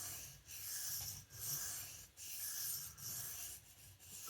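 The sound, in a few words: knife being sharpened along the edge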